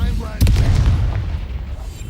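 Incendio fire spell cast in Hogwarts Legacy, a sudden loud whooshing burst of flame that flares up and then fades into a rumbling tail.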